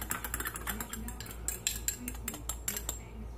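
Homemade steak sauce being mixed with a metal utensil in a dish, giving quick, close clinking and scraping taps in an uneven rhythm for several seconds, with no talking.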